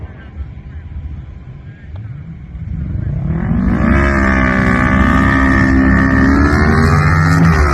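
A small Honda motorcycle and a shifter car launching at a drag strip, engines revving up into a loud, sustained high-pitched roar that rises in pitch as they accelerate away, preceded by lower idle rumble.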